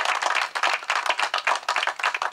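Steady, dense clapping from an audience at a school campus opening, welcoming a guest, with no voices over it.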